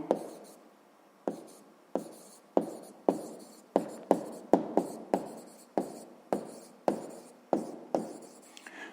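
Notes written by hand during a maths lesson: a pen scratches in a series of short, close strokes, roughly one or two per second, each starting sharply and fading, with no talking.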